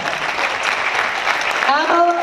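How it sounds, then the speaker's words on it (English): Short burst of group applause at a school board meeting after an escape-room challenge, busy and mixed with voices, with a brief tonal sound near the end. "Round of applause."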